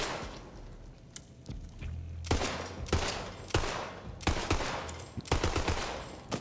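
Automatic fire from a Covenant gun in Borderlands 3 comes in several sustained bursts, loud and close. Brief pauses separate the bursts and the fire grows denser toward the end. No voices.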